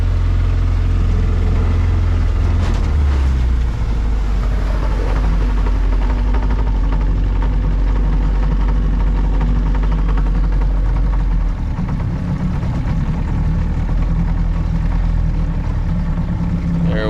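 A $700 auction boat under restoration, its engine running steadily and loudly nearby before easing down to a lower idle, the rumble continuous throughout.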